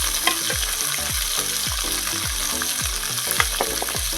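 Chopped tomato hits hot oil with fried ginger, giving a steady loud sizzle with rhythmic scraping stir strokes repeating about every half second, close up and without talk.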